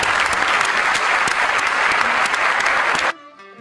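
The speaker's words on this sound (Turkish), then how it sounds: "Sizleri alkışlıyorum." Audience applause at the Bosphorus Film Festival ceremony in Istanbul, a dense, loud burst of clapping from a crowd that runs steadily for about three seconds and then stops abruptly, leaving faint residual sound.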